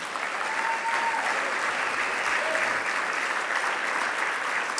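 Sustained applause fills a luncheon at a winter meeting's opening plenary, a steady, dense wash of clapping from a large seated audience with no pauses, honoring military service members.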